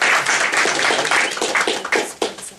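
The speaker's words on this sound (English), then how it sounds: "Give a round of applause to Beatrice" A small audience at a Toastmasters meeting claps for a speaker, dense close applause that stays loud before thinning into scattered claps at the end.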